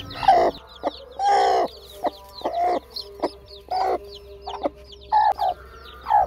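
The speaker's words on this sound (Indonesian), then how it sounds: "Ini adalah ayam bangkokku yang baru menetas" Repeated high, thin peeping calls from newly hatched Bangkok chicken chicks, several overlapping chirps in irregular bursts, close by with a faint hum underneath.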